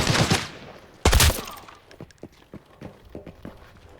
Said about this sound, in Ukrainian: На мотелі стріляють.